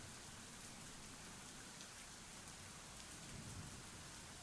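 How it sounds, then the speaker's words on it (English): Steady heavy rain pours down without a break in a video game scene, a dense, even wash of drops hitting surfaces with a faint low rumble underneath and no voices. "the rain continues to bear down on us"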